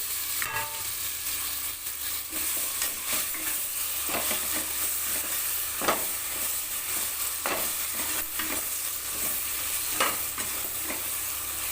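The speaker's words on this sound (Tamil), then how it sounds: "கொஞ்சம் நேரம் தக்காளியெல்லாம் நல்லா வதங்கட்டும்" Two tomatoes sautéing in a pan for a soya and green pea rice, giving a loud, continuous frying hiss throughout, broken by frequent scraping stir strokes, close and without talk.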